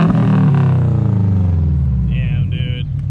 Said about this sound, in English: Give it a little rev